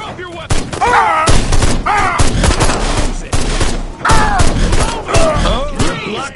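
Rapid gunfire in the video game Destroy All Humans on PS4, with loud bursts of shots close by mixed with shouting voices and game effects throughout.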